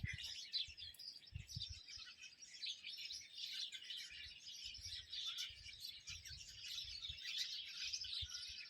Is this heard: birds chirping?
yes